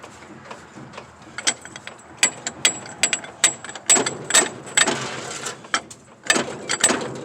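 A ratchet wrench clicks in quick irregular bursts while turning the crankshaft bolt of a seized engine, close and fairly loud with no talking.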